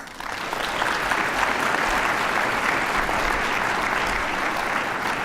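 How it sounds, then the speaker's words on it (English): A crowd at an MLK Day march and gathering applauds the mayor after his welcoming speech, a steady, dense round of clapping that starts quickly and holds loud and sustained throughout. "If you can give him a round of applause."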